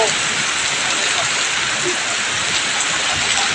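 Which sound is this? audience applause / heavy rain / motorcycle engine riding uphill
heavy rain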